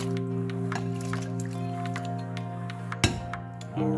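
Chunky pineapple peel pieces are dropped into a pot of spring water for tea, with small clinks and one soft thump over a steady electrical hum from the kitchen.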